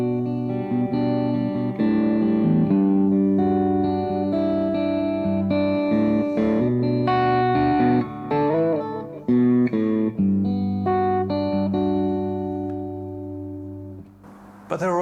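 A heavy, distorted electric guitar plays loud sustained chords and single notes with a few bends, and a brief wavering tail at the end.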